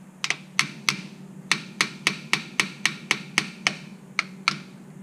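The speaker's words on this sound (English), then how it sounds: "what I do is I just kind of tap around it like that" Someone taps around a rusty brake part on a 1978 Ford, sending out sharp metallic knocks in an uneven series of about fifteen close strikes over a low steady hum.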